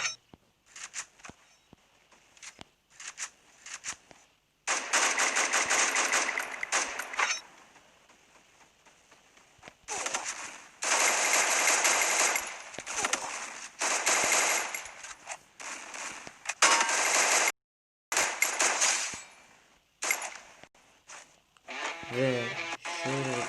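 Rapid automatic gunfire from the battle-royale game Free Fire in a tournament cage mode, loud sustained bursts alternating with brief gaps and quieter stretches, some talk faintly between the volleys.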